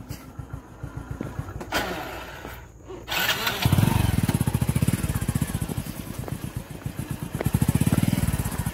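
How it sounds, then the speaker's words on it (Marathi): A two-wheeler motorcycle on a rough, rocky road: an engine revving and rumbling in pulsing bursts with clunks and rattles over the stones, close up, louder after a quieter start. "खूपच दगडी रोड आहे, बघू शकता। 2 व्हीलर चालवताना मला सुद्धा खूप त्रास होत आहे।"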